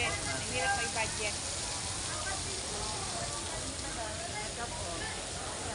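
Heavy rain pours down at a market, a steady broadband hiss of water striking surfaces, close and continuous throughout, with faint voices murmuring underneath.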